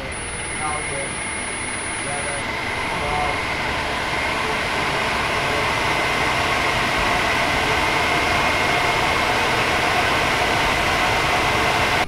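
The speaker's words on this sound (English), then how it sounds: "So over here is gonna spin the motor up to" An electric motor in a DIY converted VW Samba EV spins up toward 2,500 RPM, producing a steady, rising whine and hum that stays loud and constant, with a voice talking faintly at the start.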